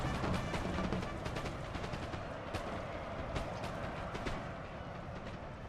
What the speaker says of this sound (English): The bombardment is incredible.